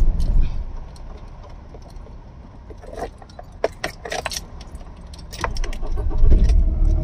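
A Mahindra Scorpio with an accelerator fault, code P2264, has its key turned and its engine cranked into life. Keys jangle and the starter whirs, then the engine settles into a low idle rumble, close and without talk.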